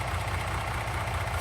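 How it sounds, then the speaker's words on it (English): A tractor engine idles in a farming simulation game, a low, steady, even rumble with a faint rhythmic pulse, continuous and alone with no voices. "The engine is nice and quiet."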